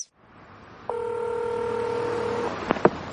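Quick touch-tone beeps sound, then a long steady dial tone and two brief ringback bursts as a telephone call to AAA insurance is dialed and starts connecting, heard clearly and close with no talking.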